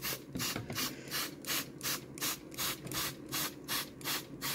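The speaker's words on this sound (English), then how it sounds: "And now might as well give her another spray down." Spray bottle misting a crested gecko enclosure, a rapid series of about ten evenly spaced hissing pumps, close and fairly quiet.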